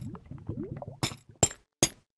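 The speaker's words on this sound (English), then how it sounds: "There are new sounds for chain blocks, for walking on them" Footsteps on chain blocks in the video game Minecraft: a run of soft metallic clinking steps, followed by three sharper, brighter chinks spaced apart, fairly quiet and alone.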